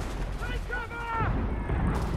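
Musket fire from soldiers in Assassin's Creed 3 rolls on as steady, heavy shots and rumbling battle din, with raised voices calling out over the shooting.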